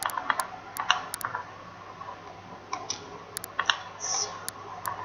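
Clicky keystrokes on a computer keyboard come in short irregular bursts with pauses between them, close and moderately loud, with no talking.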